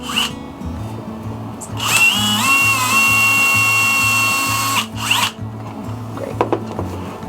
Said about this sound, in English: And we just drill on holes two squares apart.